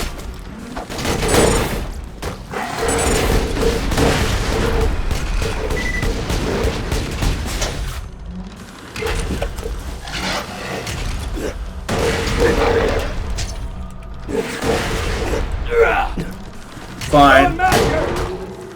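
Rapid bursts of Torgue Lance blast rifle fire in Borderlands 2, loud booming shots repeating in clusters over continuous game noise with talking throughout.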